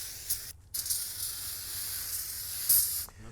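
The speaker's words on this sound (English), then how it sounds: "we're gonna wanna get some brake clean and we're gonna wanna spray it off" Brake cleaner sprayed onto a new rear brake rotor of a 2017 Ford Escape: a close, steady aerosol hiss with a brief break early on and a short pause near the end.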